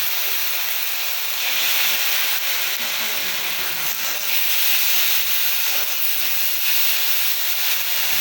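Ginger paste frying in hot oil for a village-style koi fish and oll kochu curry, a loud steady sizzling hiss that holds evenly throughout without pauses.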